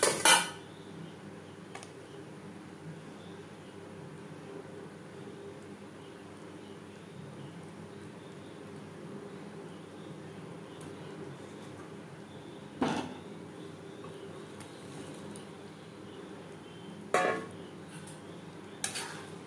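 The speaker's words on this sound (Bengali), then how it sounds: "পটল বেশ ভালো করে মিক্সড করে দেবো" A utensil stirs pointed gourd into a simmering gravy in a pan, giving a few sparse metallic clinks and scrapes against a quiet background.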